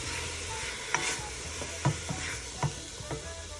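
Stew beef browns in a pan with a low, continuous sizzle, punctuated by several distinct knocks and scrapes of a utensil stirring the meat, close and quiet, with no talking.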